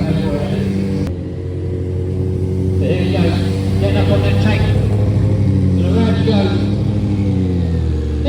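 A stunt motorcycle performs at the Kickback Rod and Custom Show in Malvern, its mid-pitched engine rumbling and revving steadily close by under an announcer talking to the crowd.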